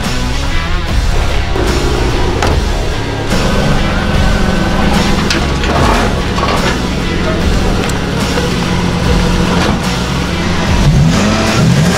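A drift car on a race track revs loudly and accelerates, its engine roaring and rising in pitch throughout, close and dominant, with faint voices mixed underneath.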